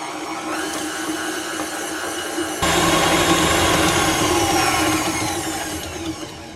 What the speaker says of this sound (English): And we're gonna mix it until smooth.